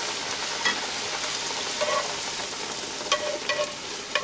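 Corn masa tortilla frying in hot oil for San Antonio–style puffy tacos, a steady close sizzle and crackle with scattered small pops, no voices.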